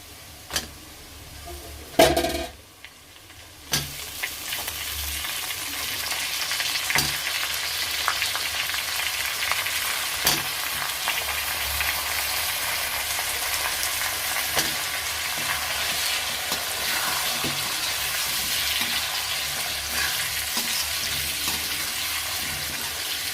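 Potatoes fry in a pan with fenugreek leaves, a continuous close sizzle running throughout, with a few sharp clanks and a burst of louder crackling near the start as ingredients go in.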